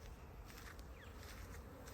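A steady insect buzz, like many bees humming close by, continuous and fairly loud throughout with no talking.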